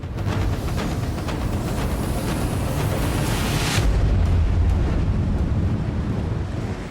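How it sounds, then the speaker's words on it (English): A huge cargo ship's engine heading straight toward a small drifting craft at sea, a steady low rumble blended with loud wind buffeting and surf wash, continuous throughout with no voices. "The boys have been woken by a huge cargo ship heading directly towards them."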